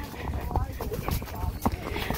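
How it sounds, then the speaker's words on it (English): A horse trots through a corn maze, its hooves making an uneven clip-clop close by, with people talking faintly in the background. "Now Leroy's trotting."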